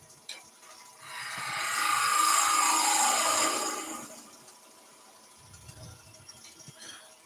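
A turning tool cuts across the bottom of a wooden gonk spinning on a lathe, producing a loud rising, scraping hiss for about three seconds before fading back to the quieter hum of the machine with light knocks.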